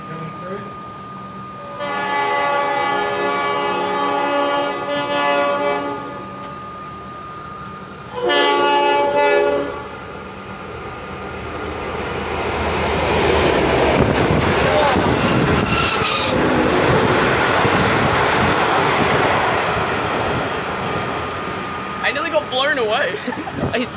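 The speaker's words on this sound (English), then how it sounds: "Platform 1, we have an express B-line train coming through." An express B-line train races through Sunbury station, horn blasting in two bursts before a loud, sustained roar of wheels and carriages with squeals and clatter, while people talk excitedly nearby.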